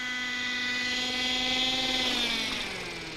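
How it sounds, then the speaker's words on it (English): A radio-controlled model helicopter lands nearby, its rotor and motor whine loud and steady with a slight pitch drift as it settles, heard alone without talk. "So I'm going to go ahead and land the helicopter"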